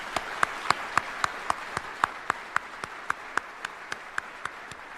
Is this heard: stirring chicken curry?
no